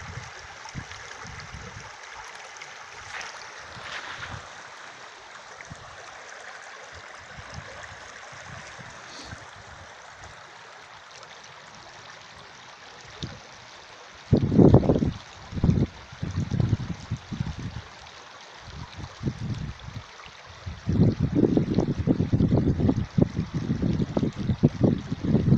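A bubbling brook that holds salmon and trout, steady rushing water close by that grows louder and more splashy in bursts toward the end, with no one talking.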